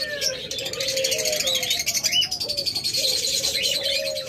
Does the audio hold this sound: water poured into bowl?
no